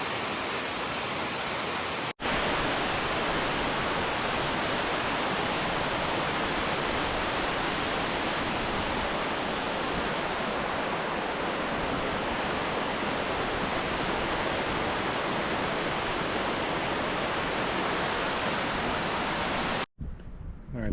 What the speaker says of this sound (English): these two waterfalls are easily two of the best waterfalls I've seen